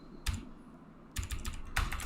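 Someone types on a computer keyboard while writing code, with short bursts of quick, close key clicks separated by pauses.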